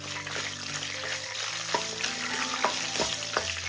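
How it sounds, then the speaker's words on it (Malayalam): Peanuts, dried red chillies and curry leaves fry and crackle in a pan while being stirred, a steady close sizzle with scattered pops and scrapes and no talking. "ഒന്ന് ഇളക്കി കൊടുക്കാം."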